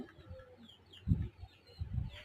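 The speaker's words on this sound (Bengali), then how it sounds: "টাইগার মুরগিকে চাল খেতে দিলাম ওরা চাল অনেক পছন্দ করে" Chickens fed rice make soft clucks and a couple of low, muffled bursts of pecking and scratching, fairly close and quiet.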